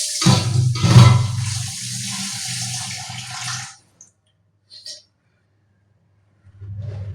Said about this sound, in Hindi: उसको थोड़ा सा धो दूँ पानी से